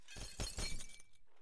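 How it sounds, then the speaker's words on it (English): Glass shattering in the video game Happy Wheels, one short burst of crashing, tinkling fragments that quickly fades, fairly quiet and heard alone. "Break the glass."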